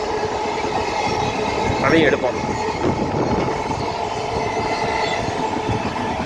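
Train passing Killambakkam railway station, a steady close rumble and clatter of wheels with a brief squeal, while people talk over it.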